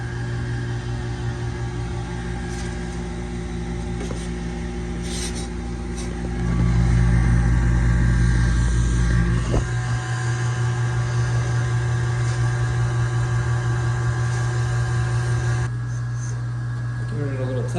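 A small electric blower motor runs steadily on a DIY shop wood burner with heat exchanger, giving a continuous hum with a louder surge partway through, while a person talks over it.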